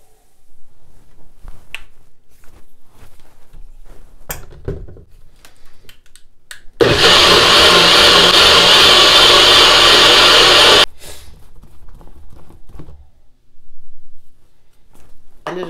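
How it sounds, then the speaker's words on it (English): A NutriBullet blender whirring through a batch of tomato sauce, a loud, dense motor roar lasting about four seconds between quieter handling clicks and taps. "So I'm going to be using my NutriBullet here to blend it up and make it into some sauce."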